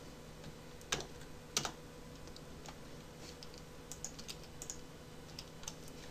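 HTML code typed on a computer keyboard makes quiet, close key clicks in irregular bursts. Two louder taps come early, then quicker runs of keystrokes follow, with no talking.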